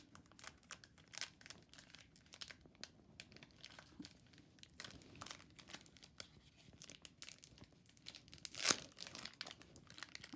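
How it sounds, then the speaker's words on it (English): A foil Yu-Gi-Oh card pack is torn open and its wrapper crinkles, a run of faint close crackling and rustling with one sharp louder rip near the end. "So we have our second pack over here, so let's open it up and see what kind of cards we get."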